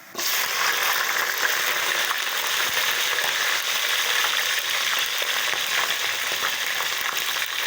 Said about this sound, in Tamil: இப்போ பச்சை மிளகாய் மொத்தத்தையுமே வந்து போட்டுடுறேன்